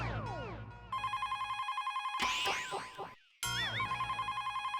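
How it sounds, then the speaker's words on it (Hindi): A telephone rings indoors at home in a steady repeating electronic trill, loud and close, with brief bursts of other tonal sound effects breaking in between the rings. "बेटा जरा फोन उठाना।"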